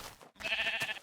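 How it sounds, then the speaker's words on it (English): A pink sheep in a video game gives one short, clear bleat, briefly interrupted by a tiny gap, heard alone and close. "look at all these pink sheep"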